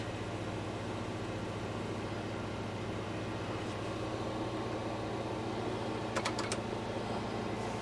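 A few quick keystrokes on a Kaypro 2 computer keyboard click briefly late on, faint over a steady low electrical hum.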